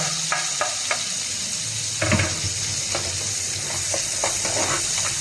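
Garlic and onion sautéing in oil in a pan, a steady frying sizzle throughout with occasional stirring scrapes and clinks of a utensil against the pan, close and moderately loud.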